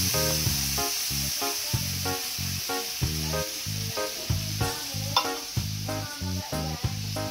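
Mushrooms, meat and garlic frying and being stirred in a pan for a creamy pesto spaghetti, giving a steady close sizzle and hiss with repeated rhythmic scraping and clanking of a utensil against the pan, no voices.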